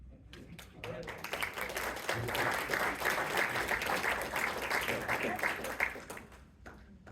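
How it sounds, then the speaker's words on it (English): At a Merriam, Kansas city council meeting, a roomful of people claps for the elected officials, the applause building from scattered claps to a full round and then tapering off, with talking underneath. "Give one more round of applause for all of our"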